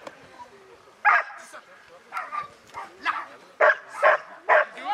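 A dog barks repeatedly at an agility competition, sharp yapping bursts in an uneven rhythm, close and fairly loud, with voices talking in the background.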